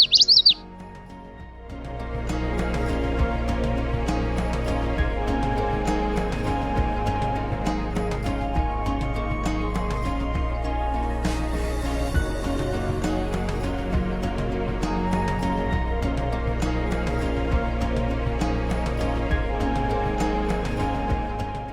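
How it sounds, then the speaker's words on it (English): A common yellowthroat sings its repeated witchety song outdoors in summer marshland, with clear, rhythmic chirping phrases, moderately near, continuing steadily over a low background hum for about twenty seconds. "I can hear the yellowthroat say witchety witchety witchety."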